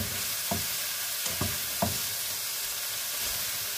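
Bean sprouts stir-fry in a hot pan under a loud, constant sizzle, with three quick spatula scrapes spaced about half a second apart early on, close and without speech.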